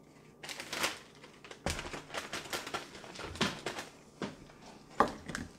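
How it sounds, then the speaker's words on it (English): Monkey bread dough pieces go into a Ziploc plastic bag, giving a run of crisp crinkling and rustling bursts, irregular and close, with small sharp plastic snaps between quieter pauses. "Now you're going to want to put it into your Ziploc baggie."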